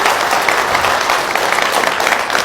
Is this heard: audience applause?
yes